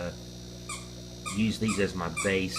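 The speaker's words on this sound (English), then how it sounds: "Sorry, that's my dog." A dog whimpers in a fish room, with thin, high whines repeating at close range under a man's speech.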